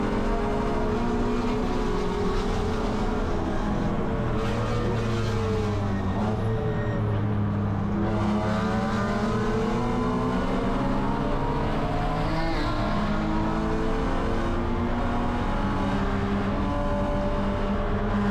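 Condor BMW Spec E90 race car lapping Watkins Glen in heavy rain during a Gridlife GLTC race, its engine droning loud and close with repeated rising and falling revs through gear changes.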